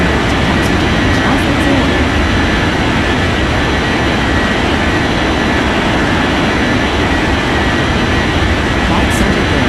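Airliner jet engines roar loudly and steadily at takeoff in an air traffic control game, a dense, continuous rumble with a broad hiss on top and faint voices beneath.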